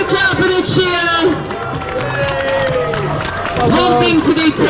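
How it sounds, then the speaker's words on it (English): A roadside crowd at a Blackpool night-time run claps and cheers for a runner in a shark costume, with close, loud clapping, whoops and a mix of voices talking and shouting encouragement throughout. "Let's give the shark a clap and a cheer."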